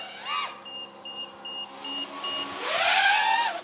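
Short high-pitched low battery alarm beeps at 3.4 volts on a 4-inch FPV drone repeat at a steady rhythm over a whirring RS2205 2600kv motor hum that rises in pitch toward the end.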